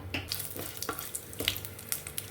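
Bay leaf, whole garam masala spices and dried red chilli sizzling in hot mustard oil in a pan, a soft crackling spit with scattered small pops, close and fairly quiet.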